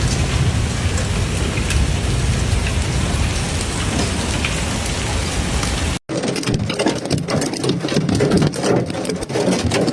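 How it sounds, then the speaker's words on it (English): Heavy rain mixed with hail pounding down during a storm in Brescia and Verona, Italy, a loud dense hiss of water and ice hitting surfaces, close and continuous, with a brief cut and a slightly different pattering scene afterward. "storm clouds brought heavy rain and hail to several districts in the city"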